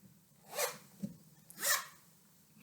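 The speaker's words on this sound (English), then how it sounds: "She had a zip, E-I-E-I-O" A zipper on a bag being pulled in two quick, bright rasping strokes about a second apart, fairly quiet and close, with low room noise and a faint tap between them.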